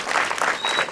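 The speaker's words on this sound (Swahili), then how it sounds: "So tupigie board of management makofi." Brief, close clapping from a school crowd for the board of management, a dense burst of applause lasting about a second.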